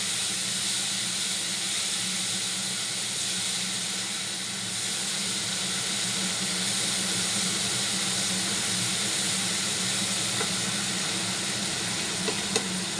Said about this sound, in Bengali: আমি আগে আলাদা করে রসুনটা বেটে নিলাম ভেজে নিচ্ছি